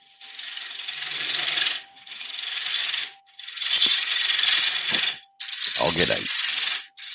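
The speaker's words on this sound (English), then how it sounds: "3/4 bow gouge. Chunk it out." A 3/4 bowl gouge hollows the inside of a driftwood bowl on a wood lathe, giving four long raspy cutting passes separated by short pauses, loud and close, with a rattling knock in the last pass.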